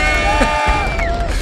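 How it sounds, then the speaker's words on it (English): A studio audience cheers and whoops loudly in a dense, continuous roar of voices, with a few high shouts rising above the crowd. "Listen to that crowd."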